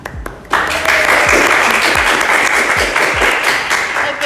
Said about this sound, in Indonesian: Agak pending sedikit ya tepuk tangannya